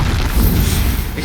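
A Bombarda blasting spell going off in Hogwarts Legacy, heard as a heavy, close, low booming burst that fills the whole short moment without a clear break.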